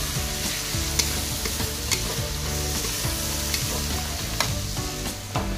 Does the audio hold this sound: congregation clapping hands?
no